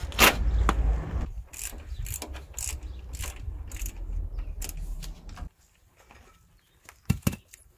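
Ratchet with a 21 mm socket loosening a nut on a Nissan Patrol, a fast run of clicking bursts up close, then a pause and a couple of final sharp clicks.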